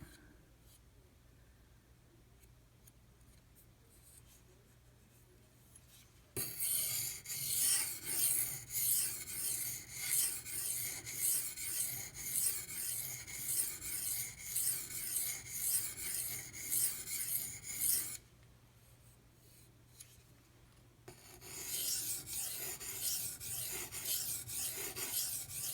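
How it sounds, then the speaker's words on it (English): A Maxamet or D2 steel knife is drawn across a Kyoto 150 sharpening stone in steady, rhythmic rasping strokes, loud and close, with a pause partway through before the strokes resume. "Just put the knife on and run it across and let it do its thing."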